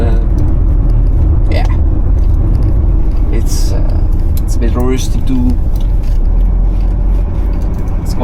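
A 1979 Mercedes-Benz W123 being driven, with a loud, constant low engine and road rumble from inside the cabin, and occasional light rattles and a brief voice over it.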